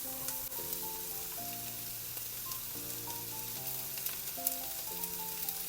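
Half-cooked potatoes and onions for a Spanish omelette fry in a pan with a soft, steady hiss under prominent background music, while occasional faint scrapes mark stirring.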